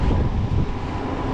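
Loud, steady wind buffets the microphone at a Tesla Supercharger in Mackinaw City, Michigan, as a low, rumbling roar that fills the whole short stretch.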